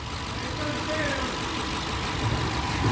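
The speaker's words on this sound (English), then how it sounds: "That's how HEMI's supposed to sound." A police HEMI V8 idles smoothly and steadily after an engine tick repair, a close continuous rumble with no knocking, and a voice talks briefly over it.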